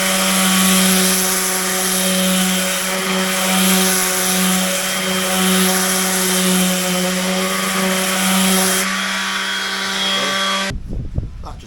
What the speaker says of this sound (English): got the palm sander out